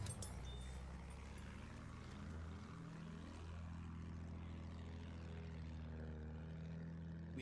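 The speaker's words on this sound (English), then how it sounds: "Got an enemy plane moving around." An enemy propeller plane flies overhead in Battlefield 1, its engine a steady droning whine with a pitch that sweeps upward as it passes, set within continuous rumbling battlefield noise; no talk.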